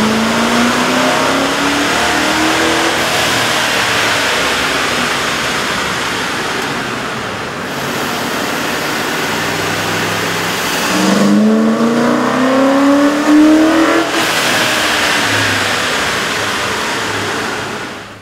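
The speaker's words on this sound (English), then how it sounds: "With the air intake installed, we ran the vehicle on the dyno to test the sound comparison versus the stock intake." A Ford F-150 5.4-liter V8 fitted with a cold air intake revs hard on a dyno, a loud roar that climbs in pitch, settles, then winds up again in a second long pull before fading.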